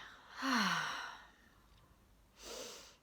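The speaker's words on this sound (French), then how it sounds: "Une respiration." A single soft, audible exhale like a sigh, followed after a pause by another quieter breath, close and intimate.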